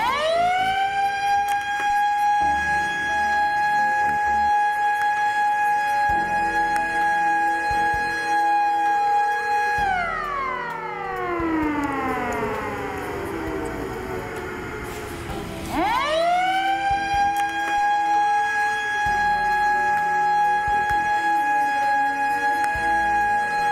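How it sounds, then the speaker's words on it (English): A loud warning siren holds a steady high wail, slides down to a low growl, then climbs back up and holds again, with no voices. "The rise and fall siren will continue to sound for the duration of the incident."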